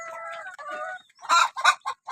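Tiger breed hens cluck and squawk nearby in a series of short, loud calls, with one bird's rising call followed by several sharp clucks.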